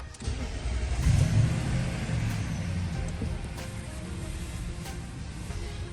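A 2021 Nissan Titan SV pickup's push-start engine catches with a quick surge of revs, then settles into a steady, close idle rumble that continues evenly to the end.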